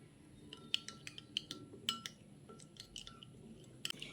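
A spoon clinks against a bowl while stirring ground spices, including Kashmiri chilli powder, into a little water, sharp irregular taps and scrapes close up with no talk.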